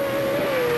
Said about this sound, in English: how wicked do these trucks sound when they're screaming?